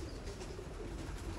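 Golden pigeons of the Mian Nazir bloodline coo softly and continuously on a rooftop, a low rolling murmur without talk.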